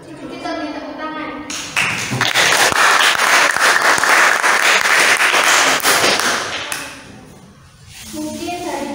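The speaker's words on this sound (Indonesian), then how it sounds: "Kita beri tepuk tangan." Classroom audience applauding after a high school debate speech, a dense burst of many hands clapping for several seconds, loud and close, then fading out, with voices talking before and after.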